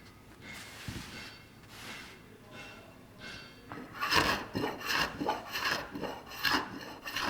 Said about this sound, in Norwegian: Da blir løs bek fanget opp i flisa mens man skraper.